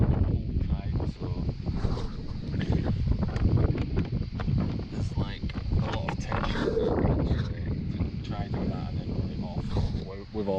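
Strong wind buffets a boat riding at anchor, a steady roaring rush with flapping gusts throughout, while a voice speaks over it.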